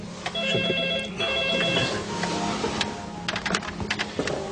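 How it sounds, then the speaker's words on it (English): A telephone rings in a police station setting, a repeated electronic trilling bell in short bursts over a busy background of clatter and faint movement. "PJ, you better have a really good reason for ringing."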